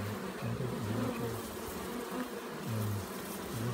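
A honey bee swarm in late summer hums with a steady, dense buzz, individual bees droning close by and passing in wavering pitches over a continuous background of many wings.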